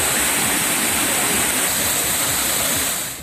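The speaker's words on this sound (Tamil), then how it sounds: "மேற்கு தொடர்ச்சி மலைப்பகுதியில் திடீர் மழை பெய்ததால் அருவிகள் ஆர்ப்பரித்து கொட்டுகின்றன" Courtallam waterfalls in the Western Ghats hills roar after a sudden rain, with a loud, dense, unbroken rush of falling water heard close by and no voices.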